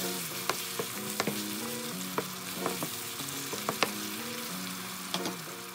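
Bok choy and pork being stirred with oyster sauce in a hot pan, a steady sizzle broken by repeated sharp utensil clinks and scrapes at an uneven rhythm, close and clear with no talking.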